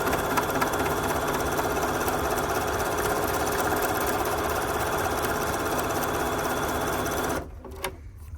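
An old Bernina 1630 sewing machine, recently repaired, stitches steadily at a loud, constant whirring pace for about seven seconds, then stops abruptly, leaving a faint click and near silence.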